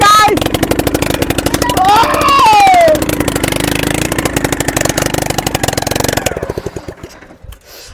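A bike engine powering a three-wheeler with giant wheels runs under full load in sand, a loud, close, rapidly pulsing chug with a rising whine, fading toward the end as someone briefly speaks.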